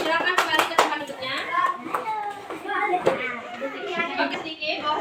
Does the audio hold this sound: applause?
yes